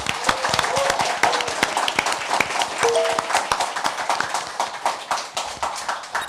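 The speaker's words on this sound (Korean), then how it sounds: "여러분의 힘찬 박수와 함께 시작하겠습니다" Studio audience clapping loudly to open a Korean political talk show, a dense, steady patter of many hands lasting throughout, with faint voices underneath.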